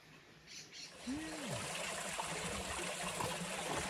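Creek water flowing near a waterfall in Black Star Canyon, California, a soft continuous rushing wash, fairly faint, with a brief bird call early on.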